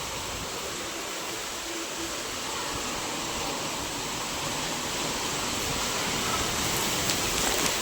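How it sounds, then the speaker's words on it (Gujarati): Heavy rain driven by strong wind in Kutch roars as a dense, unbroken hiss of pouring water and gusts, loud and steady throughout. "ફૂલ વરસાદ આવે છે, ફૂલ."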